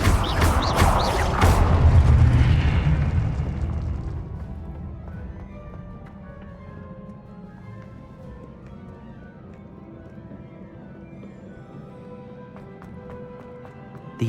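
A Confringo blasting spell explodes in a video game with a loud, booming burst that swells for a couple of seconds, then fades into a quieter, tonal background.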